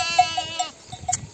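Sheep and lambs bleat at a highland summer pasture, several short, wavering calls close by, one after another with brief gaps between them.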